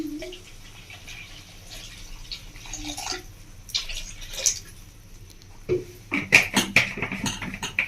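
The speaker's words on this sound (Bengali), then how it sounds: "তো বন্ধুরা আমি আরও একটু জল দিয়ে দিচ্ছি" Water poured into a pot of Bengali village-style fish curry, a soft trickle and splashing that grows louder and busier toward the end, close by, with no talking.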